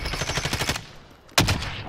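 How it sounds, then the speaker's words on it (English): Rapid gunfire bursts in Call of Duty: Modern Warfare, a quick rhythmic volley of shots that stops, then one sharper, louder shot after a brief pause, with no voices. "They're shooting me from the back, Gav"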